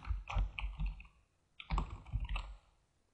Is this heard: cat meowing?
no